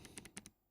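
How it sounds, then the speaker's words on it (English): A clicky mechanical keyboard switch pressed a few times in quick succession, each press giving a sharp, close, quiet click. "This is the clicky switch."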